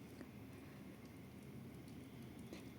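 Steady, soft rain hiss at night with scattered drops pattering on a surface, continuous and fairly faint, no voices, during a thunderstorm.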